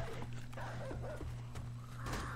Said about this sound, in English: I hear puppy dog.